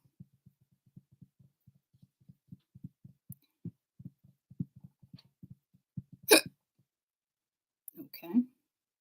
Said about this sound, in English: One hiccup.